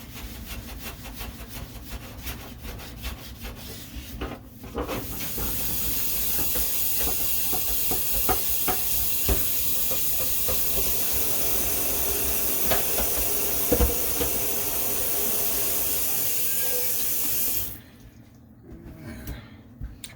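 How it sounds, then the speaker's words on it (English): A green sponge scrubs out a tin cowboy frying pan. After a few seconds of light rubbing comes a loud, steady, hissing scour that runs for about thirteen seconds and then stops abruptly, with no voices. "We're going to use the good old green sponge for this activity."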